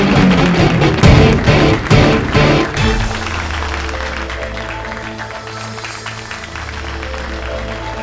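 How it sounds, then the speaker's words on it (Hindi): Studio audience applause at a Hindi television comedy show as a contestant is introduced, loud, dense clapping for about three seconds, then fading into a sustained musical backing. "इनके मुकाबले के लिए जोरदार तालियों से स्वागत करें।"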